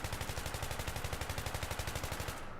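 Sustained automatic fire from an L86A2 light machine gun in Battlefield 3, a rapid, even string of loud shots that continues unbroken for several seconds with no voices.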